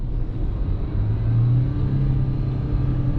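A Ford Ranger XLS V6 pickup engine-brakes down a steep hill in low gear, a steady, loud, deep engine drone and rumble heard from inside the cab with no talk.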